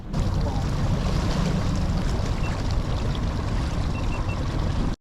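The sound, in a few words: boat trolling motor running in strong current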